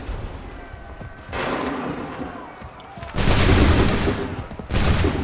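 Musket volleys in Assassin's Creed 3, loud crackling bursts of massed gunfire at about 1.3, 3.2 and 4.7 seconds, each a dense ragged fusillade with a rumbling tail, the later two heaviest.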